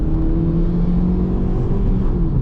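A 2014 Ford New Fiesta SE with a naturally aspirated 1.6 engine accelerating hard, a loud steady engine drone with rising tonal hum filling the cabin, continuous and close with no talking.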